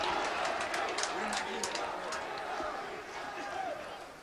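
At a bowling world championship, a crowd cheers and claps loudly. The noise is dense and sustained and slowly fades.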